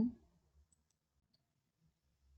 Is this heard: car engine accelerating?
no